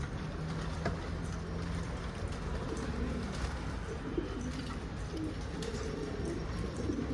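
A flock of homing pigeons returning to their loft coo softly and steadily against a continuous outdoor hum, with scattered wingbeats and small knocks.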